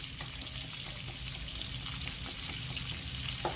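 An onion mixture for shrimp scampi sautés in a pan, giving a steady, close sizzle with faint crackles that continues evenly throughout and has no talking over it.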